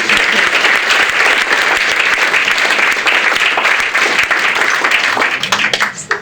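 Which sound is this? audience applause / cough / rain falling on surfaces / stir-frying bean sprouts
audience applause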